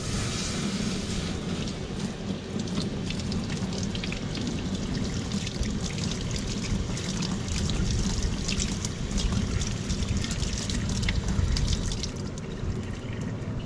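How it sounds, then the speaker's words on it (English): Water douses a hot metal pinball ramp from a Stern Iron Maiden machine, giving a steady, dense hiss and sizzle that stays loud and continuous, with no talk. "and hear it sizzle."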